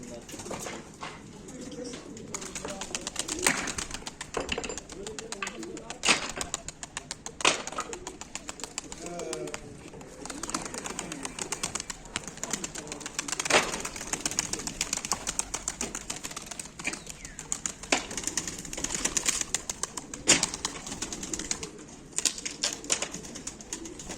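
Black play pigeons kept for sale at a live auction coo repeatedly and close by, their low rolling calls mixed with sharp clicks, rustling and occasional flutters across the whole stretch.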